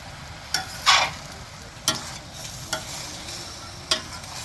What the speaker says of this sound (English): So yeah, this is the wok in action right here.